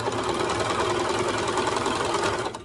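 A sewing machine runs steadily as it stitches a seam around a kids' raglan pyjama top, a close, continuous rapid mechanical whir that stops at the end.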